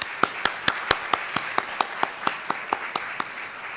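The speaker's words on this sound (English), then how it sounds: "I'd like to offer you a round of applause again and thank you all." Audience applause at a Hampton Roads military heroes awards ceremony: a steady run of sharp, evenly spaced claps, fairly close and moderately loud, with no talk over it.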